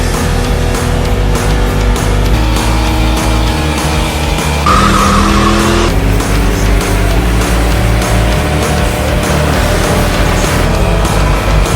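Roaring high-revving engine and screeching tire squeal from a big-tire burnout by an 850hp Power Wagon, loud and continuous with a sustained howl mid-way, crowd noise faintly underneath.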